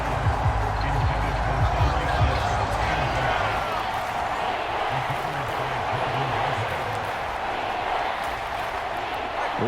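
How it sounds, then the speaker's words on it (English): Steady roar of a packed stadium crowd in Madden NFL 25 during an American football game, a continuous wash of cheering noise with a commentator talking over it. "This crowd turning up the decibel level."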